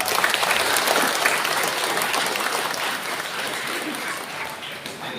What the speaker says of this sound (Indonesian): mari kita berikan aplaus untuk kemuliaan Tuhan